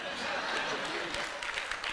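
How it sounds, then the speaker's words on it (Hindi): Applause from an audience at a Holi special comedy show, a steady dense patter of clapping with faint chuckles mixed in throughout. "बजा ताली बजा ताली"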